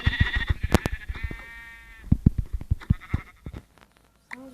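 Sheep in a video game bleat several times, wavering and nasal, between sharp clicking and tapping noises, with a final short bleat at the end.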